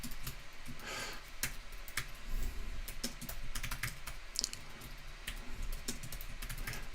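Rapid, irregular typing on a computer keyboard during a web development livestream, with dense bursts of sharp clicks and keystrokes close to the microphone, heard alone.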